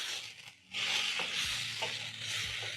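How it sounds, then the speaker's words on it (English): Salted butter stirred into mushrooms in a pan makes a close, steady sizzle, with a few scraping stirring strokes over the frying. "Stir in the butter in the mushrooms"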